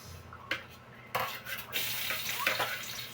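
Onions dropped into a hot pan for bitter melon and egg, then stirred with a big ladle: a few metal clanks and scrapes, followed by a rising steady sizzle close by.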